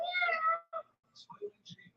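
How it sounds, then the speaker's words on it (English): A cat gives a loud, drawn-out meow up close, followed by a few shorter, quieter mews and chirps in quick succession. "So he hears the cat."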